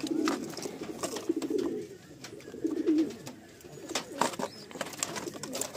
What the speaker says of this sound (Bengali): এখানে একটা গিরিবাজ পেয়ার দেখুন, খুব ওল্ড নাসালের একটা গিরিবাজ পেয়ার